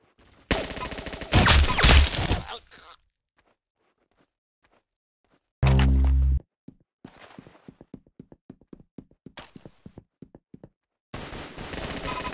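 Automatic gunfire in the online shooter game Arsenal comes in loud, dense bursts, with a sharp heavy blast midway and a long run of rapid, lighter shots and clicks, then another sustained burst at the end.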